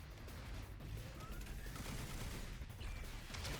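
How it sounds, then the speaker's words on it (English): Missiles launching in the video game Last Defense Academy, heard as a dense, continuous barrage of blasts and rumbling explosions filling the whole stretch at steady loudness, with no clear gaps between impacts. "Missiles."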